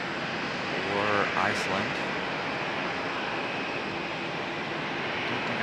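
A Delta airliner taxis toward a gate at Raleigh Durham International Airport, a steady broad jet engine roar heard from outside, with someone talking over it at the start.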